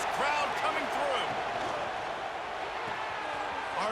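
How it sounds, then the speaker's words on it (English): Stadium crowd in EA Sports College Football 26 roars steadily under a commentator's voice, a broad continuous din with a few sharper bursts near the start. "listen to this crowd coming through."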